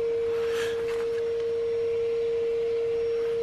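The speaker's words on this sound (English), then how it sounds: "excuse the noise of my neighbour's vacuum cleaner." A neighbour's vacuum cleaner runs next door to a backyard vegetable garden, giving a steady, unbroken motor drone with a fixed whine that continues throughout without pause.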